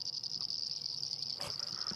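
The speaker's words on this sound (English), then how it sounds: "this cacophony of frog calls coming from this little waterhole after the rain." Rain frogs and painted reed frogs call from a small waterhole after rain, forming a continuous, faint, high-pitched trilling chorus with a few softer calls breaking through.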